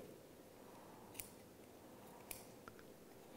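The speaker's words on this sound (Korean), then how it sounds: "이 테이핑 전용 가위를 이용해서, 자, 테이핑의 이 뒤꿈치와 이 복숭아뼈 사이로 가위가 지나가시면 돼요" Taping scissors cut through athletic tape wrapped on an ankle between heel and ankle bone, giving a few faint, sparse snips over a steady low hiss, close and quiet.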